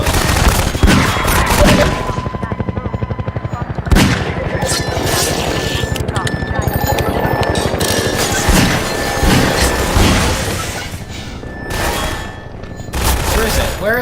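Dense, loud gunfire aimed at a helicopter in the Half-Life 2 video game: rapid overlapping shots and booming blasts run almost without pause, with heavy impacts recurring throughout.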